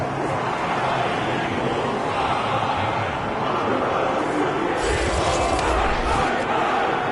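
Video game football crowd reacting after an Eagles opening-drive field goal, a dense, steady roar of cheering and babble filling the stadium throughout.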